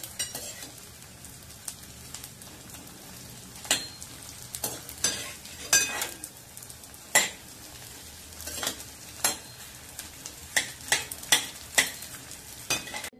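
Edible gum pieces frying and puffing up in ghee for winter ladoos, a soft steady sizzle broken by sharp irregular scrapes and taps of a spoon stirring in the pan, heard up close with nobody speaking.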